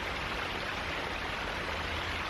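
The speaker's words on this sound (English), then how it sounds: "There's so many channels of water." Water flows through the many shallow channels of a river delta, a steady broadband rush with no voices heard.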